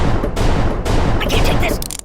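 Firearms fired in the Kick the Buddy video game, loud close bursts of rapid game gunfire in quick succession with sharp impacts, the last moments breaking into choppier shots.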